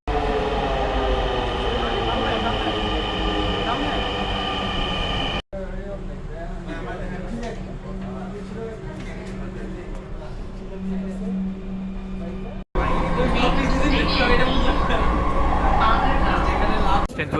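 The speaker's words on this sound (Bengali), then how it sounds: "জার্নি বাই ট্রেন এখন করতাছি" Steady rumble and clatter inside a moving passenger train on a trip toward Bhawal National Park in Gazipur, continuous and fairly loud throughout, with people chatting over it and two abrupt cuts.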